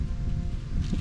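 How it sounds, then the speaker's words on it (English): Steady wind buffeting a microphone outdoors, a constant low rumble with gusty fluctuations and no voices. "Oh, it's windy."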